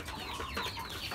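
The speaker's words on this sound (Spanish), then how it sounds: "Esta es la gallina que tiene el problema" A backyard hen with a health problem clucks repeatedly in short, close, moderately loud bursts, with no talking over the calls.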